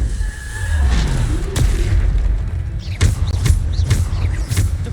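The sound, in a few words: Descendo spell impact in Hogwarts Legacy video game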